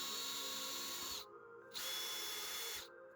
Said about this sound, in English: we're just going to make sure we don't drill into this wood panel here.